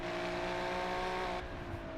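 Ferrari Challenge race car engine in a racing video game, a steady loud droning whine holding pitch for over a second before easing slightly, with no one talking.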